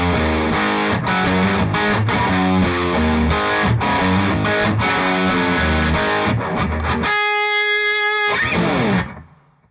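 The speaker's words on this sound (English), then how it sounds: "So those 4 bars of the riff, a little bit slower than actual tempo, sound like this." An intro riff on a heavily distorted electric guitar, played a little slower than the record, loud and continuous, then a ringing sustained note that cuts off and fades, with no talking.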